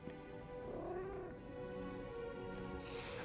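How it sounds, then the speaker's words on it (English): A cat meows in the video game Lies of P, one drawn-out, wavering caterwaul that is faint and a little distant, with no voices over it. "And there's the kitty right here."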